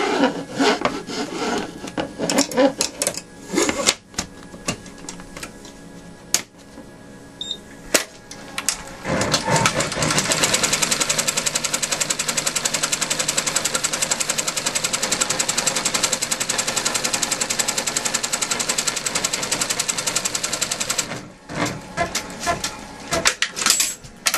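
A sewing machine stitches a crazy quilt block, running in a loud continuous whirring burst for several seconds, with shorter stop-start runs and handling noises before and after.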